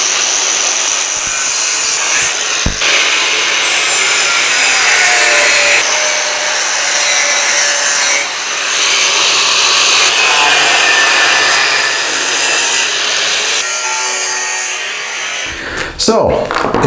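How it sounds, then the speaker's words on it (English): A rusty metal bracket is cut off an old cabin support structure, producing a loud, harsh, steady grinding rasp that runs almost unbroken for about fourteen seconds before stopping near the end. "The next step is to cut off the bracket."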